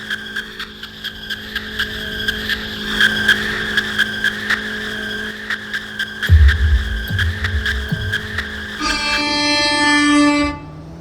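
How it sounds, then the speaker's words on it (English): A 2021 Falcon Stallion Ecoboost in the Roblox Greenville driving game launching in second gear, a steady droning engine note with tire squeal, a low thump partway through, then rising revs and a shifting tone near the end, no talk. "Second gear launch."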